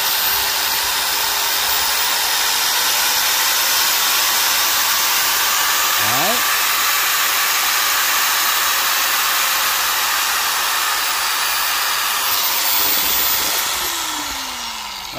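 A Makute/Kenmax 850W variable-speed angle grinder runs without a break in a steady, loud, high whir that holds for several seconds and then eases off slightly at the end.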